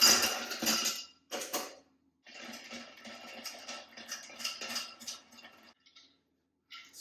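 Bar spoon stirring a mezcal and amaro cocktail over ice in a mixing glass, a quick run of clinking, ticking ice-on-glass taps that pause briefly and then resume, close and fairly quiet.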